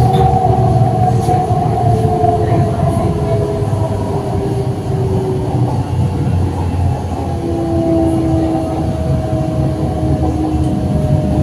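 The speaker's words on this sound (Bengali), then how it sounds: "এই মেট্রো জার্নিতে সময় লাগবে 20 মিনিট, আর এই রুটে মেট্রো চলে 20 মিনিট অন্তর করে।" A Kolkata Metro train running on the route to Salt Lake Sector 5, heard from inside as a steady loud rumble with whining motor tones rising and falling throughout, no talking.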